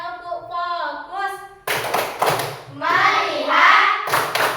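Rhythmic hand claps punctuate a classroom concentration chant, with a voice leading the call at first, then bursts of clapping mixed with children's voices.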